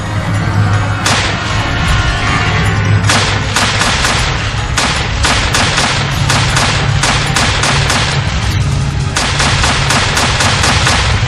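Rapid bursts of gunfire blast at zombies in the video game Resident Evil 2, loud and dense, with repeated volleys and short gaps, under a constant low game rumble.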